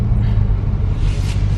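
A 2019 Dodge Challenger Scat Pack Widebody engine rumbles loud and close in a steady, deep drone, with no voices over it.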